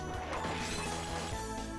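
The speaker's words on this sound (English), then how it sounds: "Random shattering statue." A statue shatters in Castlevania: Order of Ecclesia, a sharp crash of breaking stone ringing briefly over game music.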